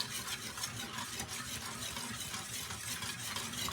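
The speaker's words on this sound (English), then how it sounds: "So you just wanna keep whisking it" A thickening Jamaican porridge is whisked steadily in a pot, giving a continuous, close scraping and swishing texture with no voices.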